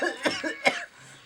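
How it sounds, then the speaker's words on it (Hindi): An elderly man with a worsening cough lets out two harsh, close coughs with a rough throaty catch between them, then falls quiet. "दिन पर दिन हमरा खांसी बढ़ते जाए"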